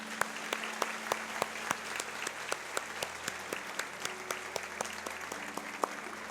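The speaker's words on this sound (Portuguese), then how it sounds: "Você pode aplaudir Jesus?" A church congregation claps in a steady, even rhythm of distinct hand claps, moderately close and filling the space, with no voices over it.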